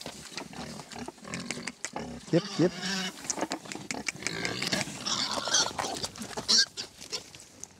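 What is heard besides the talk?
sow (pig) grunting on a mountain farm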